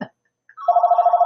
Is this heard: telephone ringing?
yes